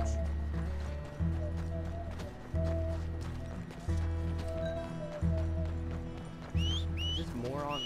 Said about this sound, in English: Is this moron horse gonna move